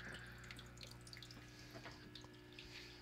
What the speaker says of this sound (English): And finally, the water enters the grow bed here.